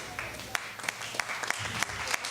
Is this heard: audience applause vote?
yes